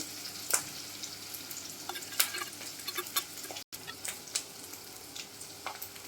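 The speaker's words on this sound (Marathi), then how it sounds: "कांदा पण असं छान परतून घ्यायचा आहे" Onion sautés in a pan on a raised flame, with a soft continuous sizzle broken by crackling pops and occasional spatula scrapes. All of it stays quiet and close, with a brief dropout partway through.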